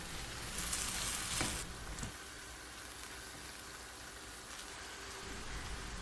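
Red kapya peppers from the freezer frying in a pan, giving a steady close sizzle throughout, with a louder scraping stir near the start.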